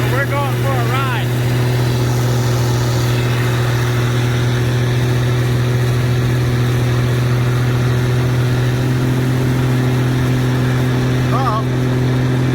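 An old Massey Ferguson 760 combine's engine runs at a steady, loud drone close by, a constant low hum throughout with brief chirps of other sounds over it.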